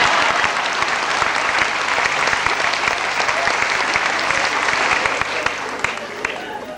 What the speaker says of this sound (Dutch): Ja, maar voor wat klappen die lui dan?